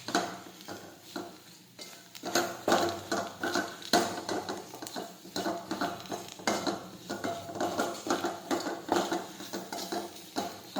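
A spoon stirs gunda (cordia fruit) sambharo with gram flour, chutney and powdered sugar in a metal pan, giving repeated close scraping and clinking strokes in an uneven rhythm, fairly loud with no voices.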